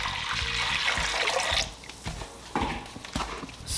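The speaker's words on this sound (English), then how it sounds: "we're going to add 1 cup of water" Water poured from a cup into a bowl while cooking tostones, a close splashing and trickling pour that fades after a second and a half, followed by a few small drips and clinks.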